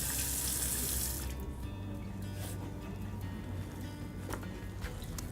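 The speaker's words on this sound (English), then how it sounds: "I'll rinse my hands off real quick." Water running from a kitchen tap as hands are rinsed, a loud steady splashing hiss that cuts off after about a second, leaving quieter wet rubbing and faint clatter.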